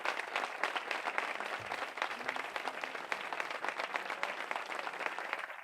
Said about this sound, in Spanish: un fuerte aplauso para uno de los grandes amigos y escritores que hay en nuestro país